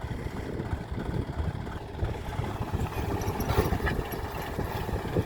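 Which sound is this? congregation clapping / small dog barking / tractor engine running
tractor engine running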